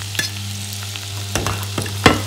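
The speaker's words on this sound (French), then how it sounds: "La première chose que je vais faire, c'est que je vais faire revenir mes poivrons à l'intérieur" Bell peppers sauté gently in melted butter over low heat, giving a soft sizzle over a steady hum, with a few sharp stirring clatters.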